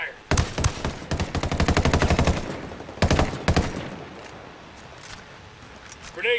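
Rapid bursts of automatic gunfire in Tom Clancy's Ghost Recon Wildlands, two long volleys with a short gap, loud and close, then fading into lower background noise.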